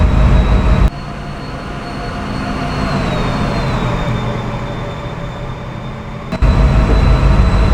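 Steady rumbling of a PRR V2 train running in a video game, with a faint high whine, interrupted by brief clunks near the start and end; no voices.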